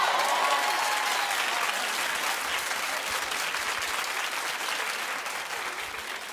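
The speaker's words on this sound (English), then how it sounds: "Clap if you think that they're making out." A television talk show studio audience claps in a thick, continuous wash, loud and steady and slowly easing off toward the end.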